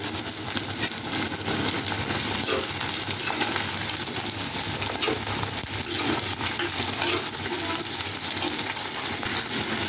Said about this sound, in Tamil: நல்லா கோல்டன் ப்ரௌன் ஆகிற வரைக்கும் கொஞ்சம் வதக்கி விட்டுட்டே இருப்போம்.